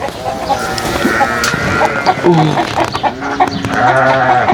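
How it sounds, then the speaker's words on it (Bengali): Chickens cluck and goats bleat close by in a lively village farmyard mix in Al-Qassim, Saudi Arabia, with overlapping animal calls and some background voices. "দেখেন মুরগি ছাগল সব কিছু আছে"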